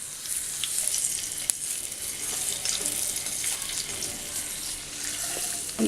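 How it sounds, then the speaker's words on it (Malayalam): Fried green chilli and curry leaf tempering poured into puli inji, a tamarind ginger relish, giving a continuous hiss of hot oil sizzling over soft background clatter, steady and close. "ഈ മൂത്തത് പുളിയിഞ്ചിയിലേക്ക് ചേർക്കാം."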